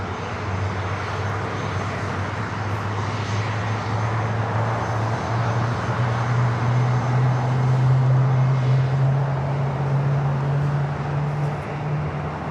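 A United Airlines Boeing 787-10 Dreamliner taking off at LAX, a loud, continuous jet roar with a steady low drone that slowly rises in pitch and swells over several seconds.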